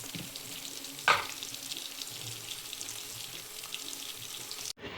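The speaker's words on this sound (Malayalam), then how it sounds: "പിന്നെ ചീരയൊക്കെ ഇട്ട് ഒന്ന് നന്നായിട്ട് ഇളക്കിയതിന് ശേഷം അത് മൂടി വെച്ചു" Spinach (cheera) with salt stirred in a pan for Kerala-style cheera thoran gives a steady, moderate sizzle, with one sharp scrape or clatter early on before the sound cuts off abruptly near the end.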